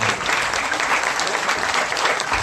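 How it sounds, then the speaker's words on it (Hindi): A theatre audience gives a short burst of steady, dense clapping for a play's writer, heard close and filling the whole moment. "उसके लिए एक बार तालियां तो बनती है"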